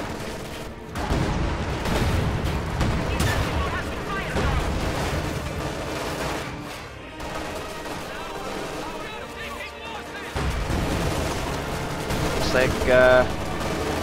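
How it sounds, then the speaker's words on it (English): A Sturmovik aircraft strafing a building in a video game: rattling bursts of gunfire and booming impacts over a dense battle roar, with a voice talking over parts of it. "a Sturmovik is getting called in on the pack here. Strafing the building"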